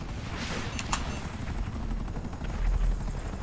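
Buzzard attack helicopter in a video game, its rotor and engine roar running steadily throughout with sharp gunfire bursts near the start.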